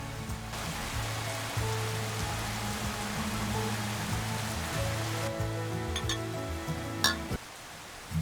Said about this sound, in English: Weather's changing. Rain came in.